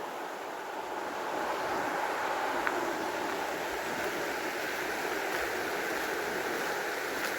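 Soft, steady rush of a river flowing near the Lobios thermal springs park, a continuous broadband wash heard from a distance, faint and unbroken, with no voices.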